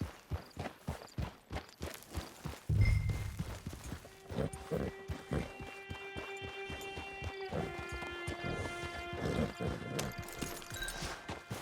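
Horse hooves walk at an easy pace in the video game Red Dead Redemption 2, each clip-clop close and distinct in a steady rhythm, with a soft ambient musical tone drifting underneath.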